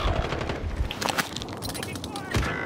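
Rapid bursts of automatic gunfire rattle through an online shooter match, with close shots and more distant fire mixed under players talking over voice chat.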